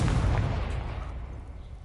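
A Confringo explosion spell in Hogwarts Legacy booms as one heavy, close blast with a deep rumbling body that slowly decays over about two seconds.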